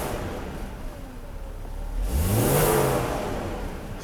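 A Mercedes W126 300SEL engine, freshly repaired after a fuel distributor fault, is revved once with a rising, swelling roar in the middle that then settles back toward idle, alone and close.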